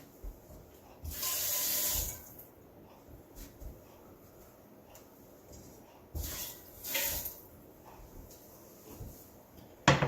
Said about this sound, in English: I'm going to put a little bit of water in this.